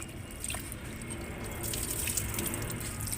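Tap water runs steadily into a sink while tomatoes are washed, a soft, close trickle with faint splashes and drips throughout.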